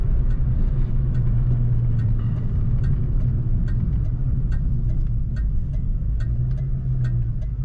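A 1989 Ford Mustang engine drones steadily through a downshift, a low continuous hum with faint clicks and a slight dip in pitch midway before the revs settle again.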